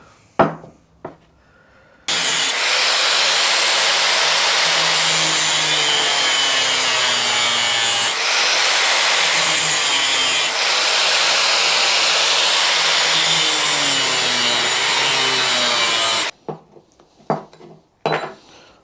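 Tube being cut for a Royal Enfield bobber build, with a long stretch of steady, loud back-and-forth saw strokes after a few clicks, ending in a few knocks.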